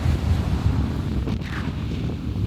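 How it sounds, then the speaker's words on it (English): Outdoor wind buffets a microphone with a steady low roar and rumbling gusts, loud and continuous with no talk. "Hope you can hear me, it's quite windy."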